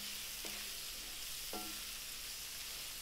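Mushrooms and shallots fry in butter in a pan with a steady, even sizzle, broken by two brief scraping stirs of a utensil.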